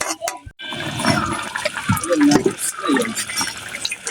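Water poured into a pan of frying potatoes to make broth for tilapia fish curry, a loud close rushing splash with bubbling and sputter, lasting several seconds.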